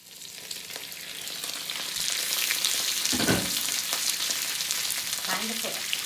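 Potatoes fry in a pan with hickory smoke flavored bacon bits, giving a steady, close sizzle that grows a little louder partway through, with a brief stir or clatter near the middle.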